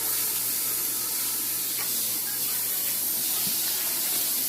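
Tap water runs in a steady, spraying hiss over a cutting board being rinsed after raw meat, with faint knocks of the board under the flow.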